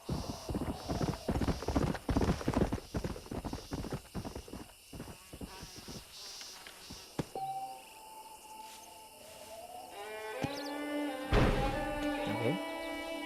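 Horse hooves clip-clop in a rhythmic, close trot in the Red Dead Redemption video game, with a stallion involved; the hoofbeats fade into sparse background sounds and game music later on.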